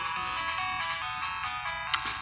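A Pokemon Crystal cartridge boots up after a broken trace is repaired, giving a bright, steady electronic chiptune tone that sounds on its own for about two seconds, with a brief click near the end.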